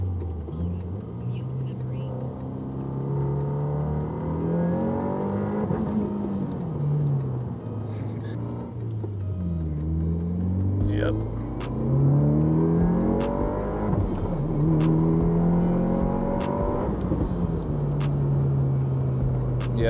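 A VB WRX Subaru with a COBB flex fuel kit on E85 accelerates hard through second gear, its engine note rising in repeated sweeps that are loud and close, while people talk over it.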